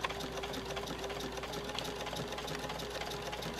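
Sewing machine fitted with a walking foot stitching a quilt at a steady medium speed, a close continuous rapid whirring hum with no talk.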